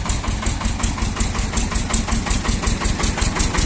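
A Shifeng 240 mini tractor engine idling steadily just after its first start following winter, a loud close rhythmic chugging with a fast regular knock throughout and nothing else heard.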